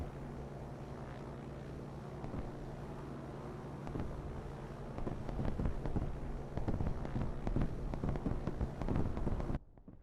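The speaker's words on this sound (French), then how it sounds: "Manu qui va arriver avec un P1Y1, là c'est 2 bombes, 2 kills gratuits" Bombs dropped from a P1Y1 bomber explode in War Thunder amid droning aircraft engines, with several sharp blasts in the second half over a steady propeller hum before an abrupt cutoff.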